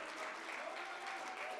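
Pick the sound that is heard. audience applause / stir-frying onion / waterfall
audience applause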